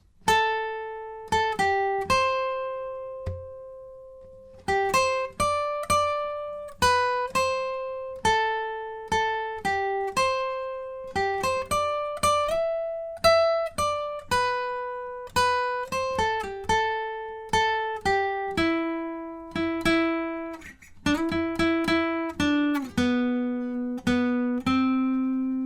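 Clean guitar picking out a song's solo as a melodic line of single plucked notes, steady and close, ending on lower sustained notes.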